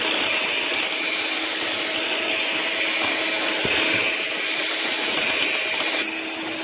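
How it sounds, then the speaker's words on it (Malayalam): An electric beater whips five eggs for a cake batter in a home kitchen, a loud, steady motor whir running close and unbroken, dropping slightly in pitch near the end. "നമ്മളിവിടെ 5 മുട്ട എടുത്തിട്ടുണ്ട്. ഇനി നമുക്ക് നല്ലോണം ബീറ്റ് ചെയ്തെടുക്കാം."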